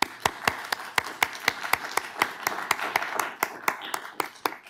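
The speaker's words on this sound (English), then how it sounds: "How about one more round of applause then for them?" Sparse applause from a small audience at the close of a tranSMART tech conference talk, about twenty distinct, fairly crisp claps in an uneven rhythm, with faint room murmur between them.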